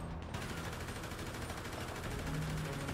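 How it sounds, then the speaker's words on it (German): Gunfire in a GTA 5 roleplay shootout, a dense run of rapid shots close by with a low rumble underneath, steady and loud for the whole stretch with no voices over it. "Wo kommen die Schüsse her?"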